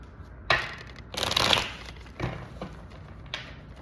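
Tarot cards are shuffled by hand in short bursts, papery riffling and slapping sounds, close and moderately quiet, with pauses between the shuffles.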